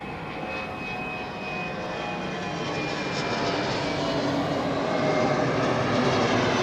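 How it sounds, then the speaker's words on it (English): Giant jet engines of an airliner roar overhead near the coast at Kona, Hawaii, a steady broad rumble that swells slightly louder across the stretch with no voices. "Nice soothing sounds of giant jet engines."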